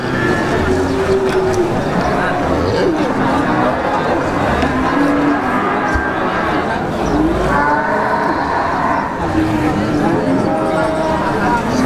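Peranakan Ongole cattle at a busy livestock market, with repeated loud moos rising over a steady crowd murmur and people talking nearby throughout.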